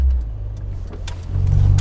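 A Metro car with an SU carburettor drives through a junction, its engine droning loud and close with a low rumble that rises toward the end.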